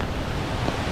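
Steady broadband rush of a river flowing near a shaded park path with picnic tables under teak trees, on the way to a waterfall; continuous and fairly loud throughout, with no voices.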